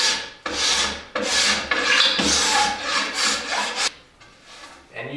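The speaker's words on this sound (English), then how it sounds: "we want to make sure that we make another couple of scrapes" A wooden longbow limb is scraped during tillering in a series of loud, rasping strokes at close range, with short pauses between them and a fainter scrape near the end.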